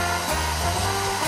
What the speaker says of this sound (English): I'll try using my hairdryer!